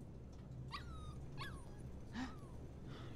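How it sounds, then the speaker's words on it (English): A puppy named Mushroom whimpers during a training session, giving three or four short, high, rising whines and yips spaced about a second apart, faint and close against a low background hum. "Ready for today's training, puppy?"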